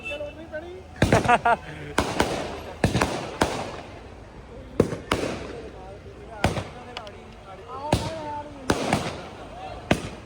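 Firecrackers go off outdoors at a Sikh commemoration of Guru Tegh Bahadur's 350th martyrdom anniversary, with about eight sharp, loud bangs at irregular intervals and people talking between them.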